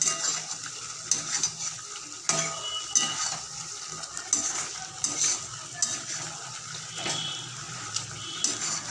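Spices with turmeric and salt are stirred and sautéed in a pan for chicken makhani, a steady close sizzle broken by repeated scraping strokes of a spoon at an uneven rhythm.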